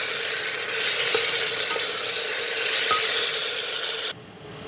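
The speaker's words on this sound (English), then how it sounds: "And now I will saute it with the onions and other spices." Ginger garlic paste with onions and spices sautés in a pan, giving a steady, loud hiss and sizzle with faint stirring clicks before the sound drops off abruptly near the end.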